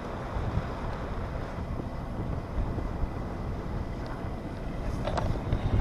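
Sailboat underway entering the Hamble River on the Solent, with steady broadband wind and water rush against the hull throughout, a constant moderate roar without speech.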